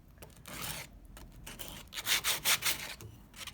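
Sandpaper rubbed over the edges of a wooden block from a kids' bunny block kit, making soft, close scratchy strokes in quick back-and-forth bursts without any talk.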